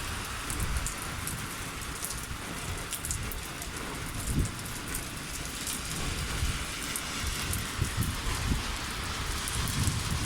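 Heavy rain pours steadily over the UAE, a dense, even hiss of drops hitting surfaces with a few louder spatters and no voices.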